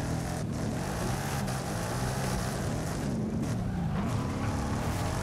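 Engine roar and tire noise from a drift car in Forza Horizon 5, run in fourth gear on a Formula Drift Englishtown course with a 900° wheel, sustained and loud throughout with a steady dense rumble and screech.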